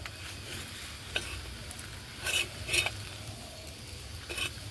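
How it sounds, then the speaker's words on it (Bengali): A Bengali-style semolina paratha fries in oil in a pan, giving a steady soft sizzle with occasional clinks and scrapes of a utensil against the pan. "দেখুন বন্ধুরা কি সুন্দর লাল লাল করে ভাজা হচ্ছে।"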